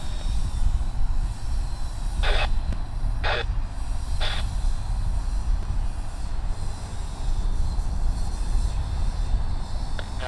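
An aircraft landing at Sydney Airport produces a loud, steady low roar of engines and wind rumble, with a few short bursts of static or hiss over the top.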